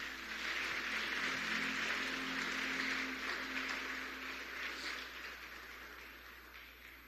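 A church congregation applauding, a steady broad wash of clapping that holds for several seconds and slowly tapers off, moderately distant.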